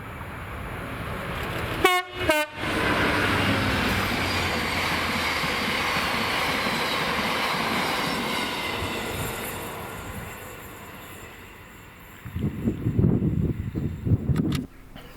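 Class 66 locomotive 66727 hauls an empty cement freight train from Mossend to Carlisle, opening with two short horn blasts, then a sustained rumbling passage of engine and wagons that fades, before a closer burst of clattering noise near the end.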